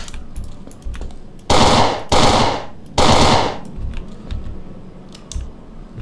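Gunfire in the zombie video game Fort Zombie: three loud, close bursts of rapid shots in quick succession, separated by short pauses, with faint clicks and thumps between them.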